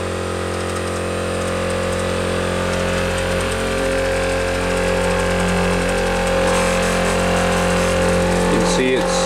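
Model A engine running up to speed, a steady close mechanical drone with a rhythmic knocking beat and constant vibration, a faint scrape near the end.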